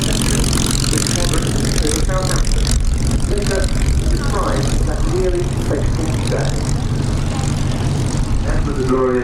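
Formation of Hawker Hurricane fighters flying overhead at the IWM Duxford Battle of Britain air show, a loud continuous propeller engine drone filling the scene while people talk nearby.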